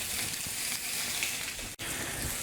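Salmon cooking on a hot grill gives a steady, close hiss and crackle of sizzling that runs throughout, with one brief dropout near the end and no talk.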